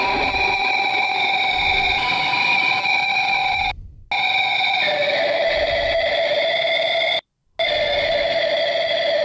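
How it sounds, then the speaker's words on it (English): A loud, continuous distorted electric guitar tone with sustained buzzing overtones, cut by two brief gaps of silence before resuming. "we're going to crank the gain up, and that's going to give us a distorted sound"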